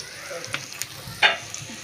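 Banana flower (mocha) bhaji frying in oil with onion, garlic and green chilli, a soft steady sizzle broken by a few short stirring scrapes and one louder hiss burst, close up with no talk.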